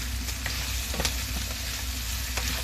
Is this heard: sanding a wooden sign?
no